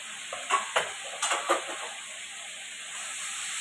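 Turmeric and spices frying in a pan for a katla fish kalia, a few quick stirring scrapes over a steady soft sizzle, fairly quiet and close, with no talking.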